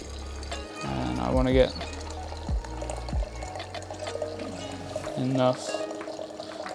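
Hot water pours from an electric hot pot while someone talks over it, a rising gurgling fill that comes in short pulses.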